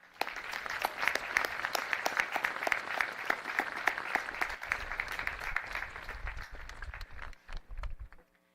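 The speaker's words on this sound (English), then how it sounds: "The class of 2025 deserves your applause for a job well done." A commencement audience applauds a graduating high school class, a dense, sustained crackle of many hands from a large crowd that carries on steadily, then thins and fades out toward the end.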